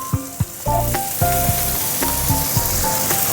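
Diced potatoes frying in a pan for white potato curry, a steady sizzle with a few clattering stirs and taps near the start, close and fairly loud, with no talking.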